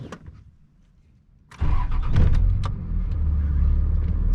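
A Cummins diesel truck with a six-speed fires up after a quiet pause, the engine catching abruptly and settling into a loud, steady rumbling idle.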